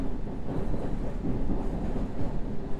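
A subway train in the World of Subways 3 simulator game rolls steadily along the track, its low, continuous rumble close and even, with faint rhythmic wheel clatter and no voices.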